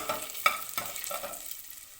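Garlic and ginger stir-fried in a pan for egg fried rice, giving a steady sizzle broken by a few sharp scrapes and clacks of a spatula stirring, close and moderately loud with no talk.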